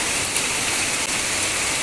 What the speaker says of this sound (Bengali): ভালো জোরে বৃষ্টি নেমেছে